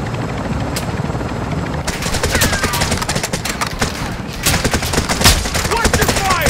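Rapid bursts of video game gunfire in a heavy chopper battle, sharp cracks and rattling volleys over a constant helicopter rotor roar, getting denser and louder after the first two seconds.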